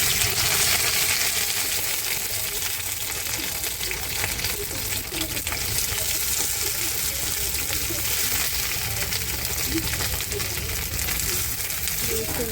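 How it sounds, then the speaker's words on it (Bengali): Small pieces of cut okra fry in hot oil in a wok, giving a steady, dense sizzle that runs the whole time with little else over it. "আমি ভেন্ডিটাকে এখন ভেজে নেবো হালকা।"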